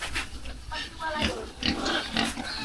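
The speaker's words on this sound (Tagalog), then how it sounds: "Itong mga baboy, ang dami nila sa isang kulungan." Pigs crowded in a farm pen grunt and squeal in short overlapping bursts, close and fairly loud, with people talking over them.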